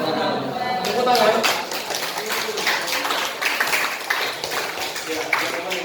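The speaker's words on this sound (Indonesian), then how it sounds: "Tepuk tangan." Classroom applause from students after a group presentation on Islamic inheritance and wills, a dense broadband patter of many hands clapping steadily throughout, close and fairly loud, mixed with a murmur of voices.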